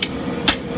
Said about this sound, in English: I'll switch to the flat of the anvil because there's not as much work to do back here towards the hilt.